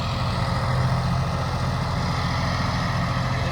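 A John Deere 5055 tractor, modified with an inline fuel pump, idles close by with a steady, even, low diesel rumble throughout and no talking.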